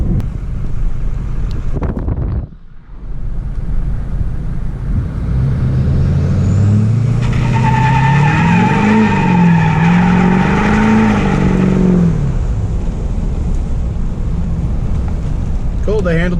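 A car fitted with new wheels and tires idles loudly, then the engine revs and pulls away with a rising, wavering tone under heavy wind and cabin rumble; a voice speaks briefly early on.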